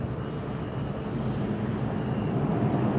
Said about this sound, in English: This is Delta headed to Dallas, an Airbus 320-200 series.